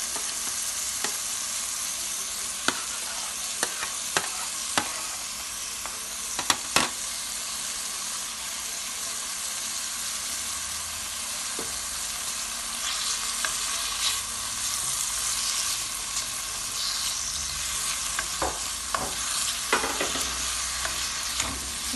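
Carrots and salt fish stirred and frying in a pan, a steady sizzle with scattered scraping clicks of a spoon against the pan, continuous and close, with no talking.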